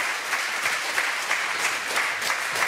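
An audience applauding steadily throughout, a dense crackle of many hands clapping close by, with no voices standing out.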